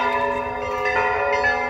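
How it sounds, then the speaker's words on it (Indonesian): An Orthodox church bell in Tulcea, Romania rings out with a sustained, resonant tone, its overtones lingering and humming, heard from some distance outdoors. "bisa didengar ya suara loncengnya ya dari salah satu gereja tadi ya"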